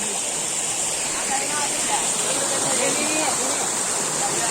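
Vilangad waterfall in Kozhikode, a constant loud roar of falling water heard from above the falls, steady and unbroken throughout with faint voices mixed in.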